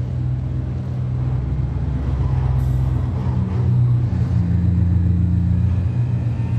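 Deep engine of the Mercedes-AMG GT concept four-door coupe rumbles and revs at a New York Auto Show press event, a loud, steady low drone with a slight rise in pitch partway through.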